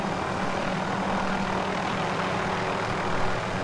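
A helicopter in a video game thunders in a dense, steady roar of rotor and engine, loud and continuous throughout with no voices.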